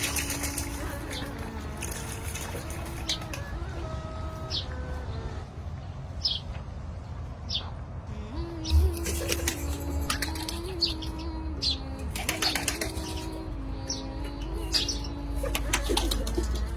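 Pigeons in a garden in Medina, with soft cooing and several bursts of flapping wings at close range, over steady outdoor ambience and faint chirps from other birds.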